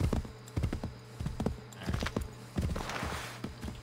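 Horse hooves clip-clop in Assassin's Creed 3 gameplay, a steady series of close, fairly loud hoof strikes at a walking-to-trotting rhythm with a faint ambient bed behind them.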